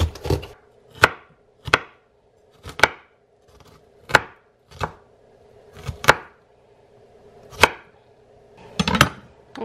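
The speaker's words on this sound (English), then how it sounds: "I got a bunch of derpy looking red peppers. We're gonna cut those." Red peppers are chopped with a knife on a board: about a dozen sharp, close thuds in a loose, uneven rhythm, with short pauses between strokes and no talking.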